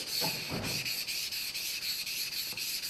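A blade is worked back and forth on an 800-grit sharpening stone, a close, steady gritty rasp with regular stroke rhythm and a faint high insect-like whine over it, no talking.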